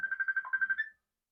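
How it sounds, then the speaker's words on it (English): A phone ringtone warbles in a fast, pulsing trill for under a second, then cuts off into silence. "my phone is ringing"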